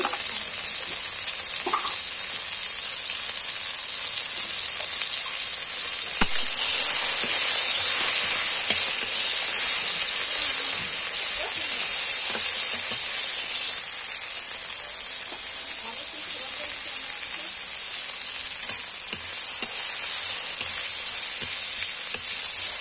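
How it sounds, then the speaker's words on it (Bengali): Bitter gourd slices fry in oil in a wok, giving a steady, loud hiss of sizzling that runs throughout with faint scattered crackles and an occasional soft stir. "আমি উচ্ছে ভাজাটা করে নিই"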